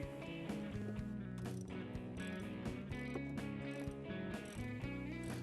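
Rapid ratchet clicks while front seat bolts are loosened on a Jeep JK, with steady mechanical ticking running throughout, fairly faint and close, with no talk.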